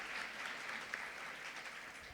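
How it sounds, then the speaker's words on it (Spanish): Faint, steady audience applause for a guest at a lecture on surgical wound care, a dense even patter from a distant crowd with no voices over it. "un aplauso"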